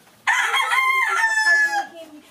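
A hen vocalizes loudly and close by in one drawn-out, wavering call of about two seconds that trails off at the end, heard alone with no talk.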